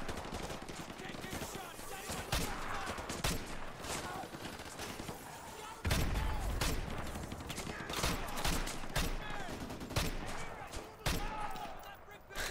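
Gunfire in Call of Duty MW2 comes as repeated bursts and single cracks across the clip, with a heavier barrage around the middle, mixed with game sounds.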